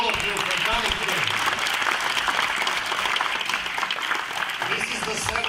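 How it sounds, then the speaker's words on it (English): A large crowd at the opening ceremony of the 2017 World Minigolf Championships applauds, a dense, continuous wash of clapping that stays strong and even from start to finish. "Please, one more applause for all of you for coming here."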